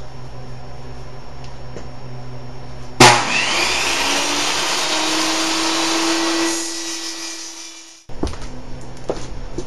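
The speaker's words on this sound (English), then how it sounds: "I'm going to cut this 2 inches wide by 12 inches long using my table saw." Table saw ripping a strip of polycarbonate plastic: a sharp start, then a loud, steady high whine and rasping cut lasting about five seconds, tapering as the blade spins down before sudden quiet.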